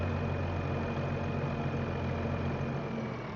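A new truck's engine idles steadily in Farming Simulator 25, a loud, even low rumble with a constant hum and no change in pitch throughout.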